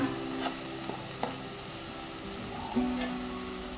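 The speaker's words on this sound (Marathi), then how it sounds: "आता हे सगळे मसाले मिक्स करून घेते मी छान." Spices for dhaba-style shev bhaji stirred into a pan while frying, giving a steady sizzle with a few soft scrapes of the spoon.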